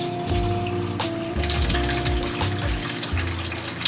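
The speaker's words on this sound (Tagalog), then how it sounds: "habang binubuhusan natin ng tubig yung reservoir, okay yan, diretso sa drain" Water splashes and gurgles steadily as it is poured into a coffee machine's water reservoir and drains away, with a low rumbling flow throughout and no voices.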